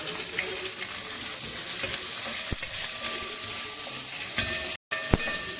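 Onion and green chillies sautéing in a pan, a steady close sizzle and hiss running throughout with a few light clicks and one brief dropout near the end.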